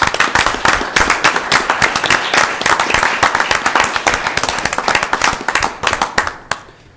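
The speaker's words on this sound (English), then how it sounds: "Let's give another round of applause." A room full of people at a city council meeting applauds loudly and steadily, with dense overlapping clapping for several seconds before it fades at the end.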